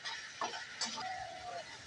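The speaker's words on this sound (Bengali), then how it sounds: "এই মশলার মধ্যে জিরে বাটা আর ধনে বাটাটা কাঁচা নিয়েছিলাম, তাই জন্য মশলাটা ভালো করে কষিয়ে নিচ্ছি" Raw ground cumin and coriander paste fried in a pan for a Bengali-style lote fish curry: a soft, close sizzle with a few spoon scrapes and taps, brief and fairly quiet.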